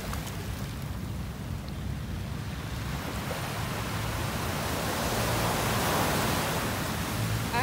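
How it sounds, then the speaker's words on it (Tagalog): Strong ocean waves roar continuously on Dolomite Beach, Manila, a broad rushing wash that swells slightly louder toward the end, with wind noise mixed in. "So, napakalakas ng alon."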